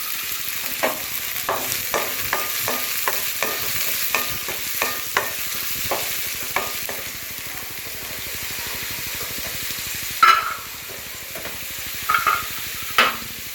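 Ingredients for a village-style dried fish curry fry in a hot pan with a constant sizzle, a spatula stirring in quick repeated scrapes, then a few louder clanks near the end.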